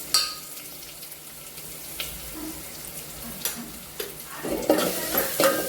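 Turmeric and spices frying for sambar, stirred in a pan with soft scraping and faint sizzle, a few sharp utensil clinks growing louder near the end.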